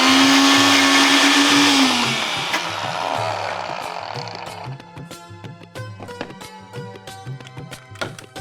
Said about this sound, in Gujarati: આ મસ્ત કુક થાય છે ત્યાં સુધી આપણે આને બ્લેન્ડ કરી દઈએ